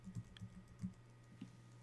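Typing on a computer keyboard, a few sparse, very faint key taps spaced irregularly over a low steady hum, heard alone without speech.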